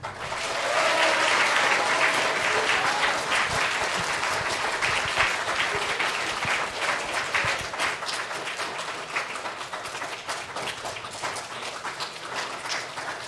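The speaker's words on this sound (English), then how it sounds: "Let's clap." Students at a school chapel service applaud together in a loud, dense round of clapping that swells early, then slowly thins and softens over several seconds, with no voices heard.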